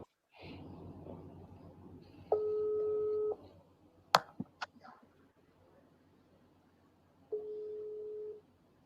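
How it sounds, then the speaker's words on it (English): A telephone ring tone plays back from a voicemail recording, two long, even tone bursts several seconds apart over faint background noise, broken by a few sharp clicks between them. "The telephone is ringing like somebody calling."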